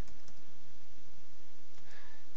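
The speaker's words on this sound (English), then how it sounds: "But I'll start typing right now so you can see." Someone types on a computer keyboard while entering a disk command, soft, close key taps scattered over a low steady hiss, with no voices.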